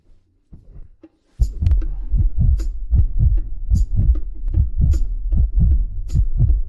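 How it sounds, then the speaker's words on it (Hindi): A rapid heartbeat thumps steadily and loudly, each double beat evenly spaced and close, running alone after a brief faint opening. "तुम्हारी धड़कन बहुत तेज है।"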